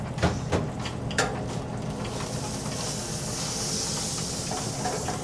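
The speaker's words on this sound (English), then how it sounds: "So this is just searing on here. We're looking for a nice crust." Vegan bites sear in canola oil on a hot cooking surface, giving a steady broadband sizzle with a few sharp pops near the start. The sound is moderately loud and continuous, with no talking.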